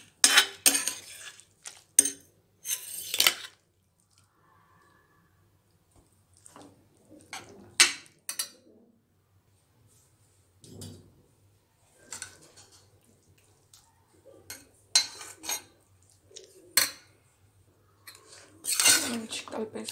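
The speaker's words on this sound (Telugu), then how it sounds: "ఇప్పుడు ఇక్కడ పాలకూర మిక్స్ చేసేస్తాను" A spoon stirs fried spinach into dal in a bowl, giving scattered close clinks and scrapes against the dish in short bursts with quiet gaps between them.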